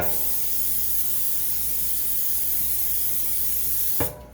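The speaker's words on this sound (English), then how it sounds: "we can go ahead and get our 13 by 9 sprayed and ready to go" Cooking spray hisses steadily onto a 13 by 9 baking pan over a sink, one continuous close burst lasting about four seconds before cutting off abruptly.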